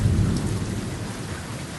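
Steady rain pours down during a thunderstorm, with a dense wash of drops and a low rumbling thunder roll that fades slightly over the short stretch, no voices.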